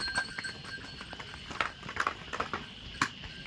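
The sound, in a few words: hooves of pack mules or donkeys walking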